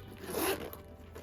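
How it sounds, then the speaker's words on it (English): A zipper on a Brighton leather bag with silver-tone hardware and a chain-wrapped strap is drawn in one quick, close rasping pull, with softer handling noise trailing after. "Let's make sure that zipper works, and it sure does."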